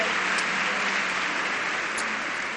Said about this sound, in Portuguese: Vamos aplaudir as nossas irmãs aqui do bate-papo.